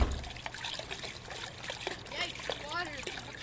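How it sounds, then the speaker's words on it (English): Water trickles and splashes faintly in The Crooked Man video game, a soft, uneven dribble under a voice talking quietly throughout. "Yikes, water."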